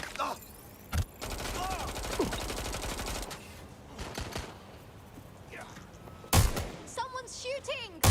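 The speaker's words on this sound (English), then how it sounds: "Someone's shooting!" Bursts of gunfire in the Watch Dogs Legion video game, sharp shots mixed with game sound effects and character voices, loudest near the start and again toward the end.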